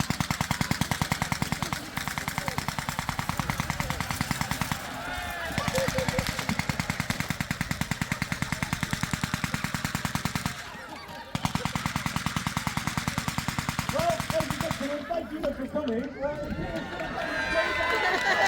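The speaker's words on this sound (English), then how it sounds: "a Vickers machine gun with a machine gun crew is unveiled, and they mow down not only the champions but our entire army." A Vickers machine gun fired by a crew during a medieval pageant reenactment, long rapid bursts of rattling shots with short pauses between them, while voices and crowd noise carry underneath.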